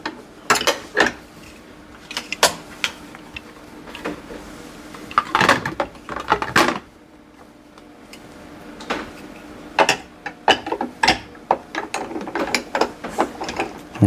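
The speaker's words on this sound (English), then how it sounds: "So pulling down will open the chamber, and that will let the ice cream or slushy mix come down, and then all the way up we'll keep that sealed" A lever on a home soft serve ice cream machine worked to open and seal the chamber, giving a string of close, sharp plastic clicks and ratcheting snaps in irregular bursts.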